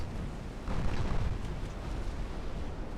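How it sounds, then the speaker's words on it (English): A torpedo strikes a warship in the naval battle game Ultimate Admiral Dreadnoughts, giving a deep rumbling blast that swells after a moment and keeps rolling on as a dense low roar with no voices. "That's gonna be another torpedo hit."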